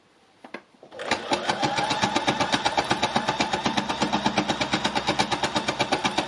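After a few hesitant clicks, a sewing machine starts up and stitches through dense fabric with a fast, steady, rhythmic chugging, close and fairly loud, slightly labored.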